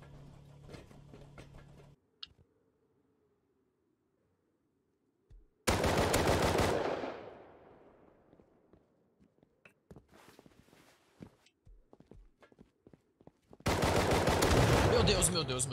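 Loud bursts of automatic gunfire from the video game Rust come in two long volleys separated by a quiet stretch, with a few scattered single shots and clicks in between.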